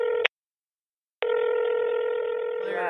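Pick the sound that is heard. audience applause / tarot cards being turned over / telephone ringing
telephone ringing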